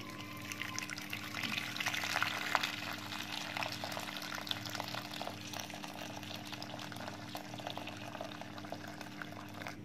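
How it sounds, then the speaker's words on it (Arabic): Boiling water, about three cups, poured over ingredients in a kitchen, making a quiet, continuous splashing hiss with faint bubbling and a low steady hum beneath, with no talking. "هننزل عليهم بحوالي 3 كوبايات ميه مغليه زي ما انتم شايفين كده"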